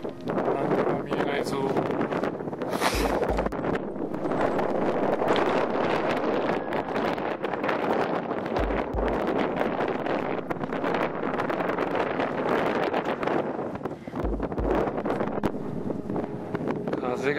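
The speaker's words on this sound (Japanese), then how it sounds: "風が早いですね。" Strong wind rushing across a Yatsugatake mountain ridge near the Kiretto hut, buffeting the microphone in a continuous loud roar with a few low thumps, while people speak briefly.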